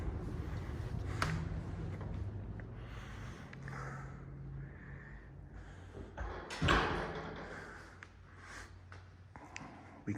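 An old building's door being opened, with a few muffled thumps and rattles, one sharper bang near the middle, low rumbling and faint rustling around them, and no talk.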